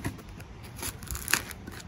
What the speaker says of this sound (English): just nice and gently cut around the pool noodle